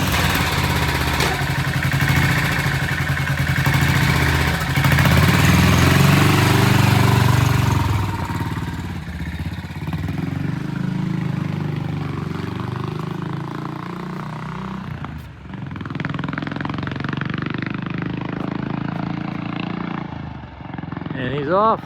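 A BSA 441 Victor single-cylinder motorcycle engine revs loudly up close, then drops to a lower, steadier running note as the bike pulls away, with brief bursts of talk.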